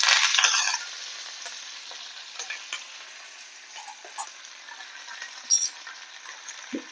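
Curry leaves, a dried red chili, cumin and mustard seeds fry in hot oil, opening with a loud, close crackling hiss that fades into quieter sizzling dotted with sharp pops and clinks.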